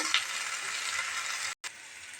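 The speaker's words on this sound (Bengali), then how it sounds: "পেঁয়াজ কলিগুলো আমি আস্তে আস্তে করে ভেজে নেব। এই যে আমার ভাজা হয়ে যাচ্ছে।" Onion flower stalks fry in a pan with a loud, continuous close sizzle. There is a small clink near the start and a brief gap before the frying resumes.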